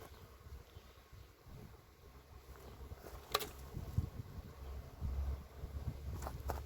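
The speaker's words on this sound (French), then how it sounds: "il y a un frelon asiatique ici" Honeybees buzz around a hive entrance where an Asian hornet hovers, a faint, continuous insect drone outdoors with light wind noise and a couple of brief knocks.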